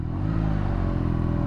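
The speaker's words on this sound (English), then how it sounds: "Nice little growl to the engine" A BMW R NineT Urban GS with a boxer twin idles in neutral just after start-up, giving a steady, low, throbbing growl with a slight mechanical clatter, close and continuous throughout.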